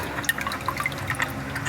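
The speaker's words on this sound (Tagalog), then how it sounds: "makita nyo, lumakas ang tulo, no, mga klinika, no" Automatic transmission fluid drips and trickles from the overflow plug of a 2014 Nissan Almera during a fluid change. The liquid patters in a close, uneven stream with irregular splashes.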